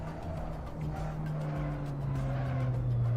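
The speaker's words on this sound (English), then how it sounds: "you can also hear the tyre scrubbing sound, which lines up to it as well" Tyres scrubbing in the RaceRoom racing game, a continuous rough squealing hiss over a steady engine drone that slowly rises in pitch, with no talking.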